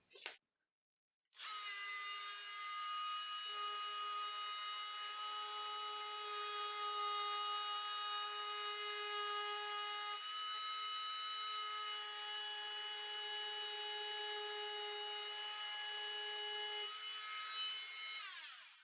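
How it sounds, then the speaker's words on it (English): A Dremel rotary tool cuts slowly through a half-inch ceiling tile, a steady high-pitched whine after a brief blip, close and sustained with slight shifts in pitch under load. "So I will have to use the dremel here to cut it slowly but surely."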